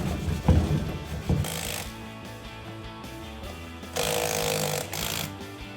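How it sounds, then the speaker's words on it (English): A wire brush scrubs the threads of a front shock mount on a RAM 1500 pickup during a Bilstein shock install, in several short rasping bursts between clanks of tools and metal. "I'm going to take a wire brush and try to clean off as much of that thread surface as I can"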